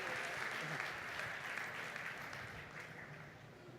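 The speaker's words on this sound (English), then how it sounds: "Come on, give them a round of applause." A conference audience applauding, dense sustained clapping from a large crowd filling a hall, steady and moderately distant, slowly easing off.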